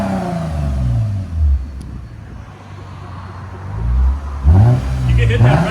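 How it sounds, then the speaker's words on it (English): A Lexus RC 350 revs its exhaust toward the rev limiter, loud rising and falling engine blasts with a quieter idle between two bursts, recorded up close. "Hit that rev limiter."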